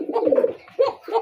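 A Shalik Koka giribaz pigeon cooing close by, two or three throaty, resonant coo phrases with short pauses between them, clear and fairly loud with no talking over it.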